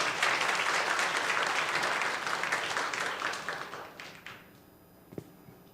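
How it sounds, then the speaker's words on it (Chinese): A church congregation at a Sunday service applauds to welcome a pastor, a full burst of clapping that holds steady and then fades out, with a single thump near the end. "那我也邀请大家用掌声好来欢迎庄德章庄牧师"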